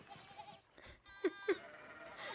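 Sheep bleat in the medieval village of the video game Pentiment, two short distinct bleats over a quiet ambient background, with faint other sounds.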